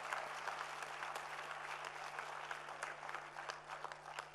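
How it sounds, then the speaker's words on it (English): Faint, distant applause for students at a plants2patients ethnopharmacology event, a thin continuous patter of many hands under a steady low hum. "I truly would like to clap for you."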